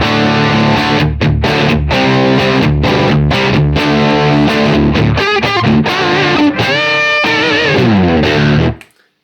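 Thick, distorted electric guitar riffs in drop D through a UAD Lion amp simulator, played loudly and continuously, with chords and bends ringing out before the sound cuts off at the end.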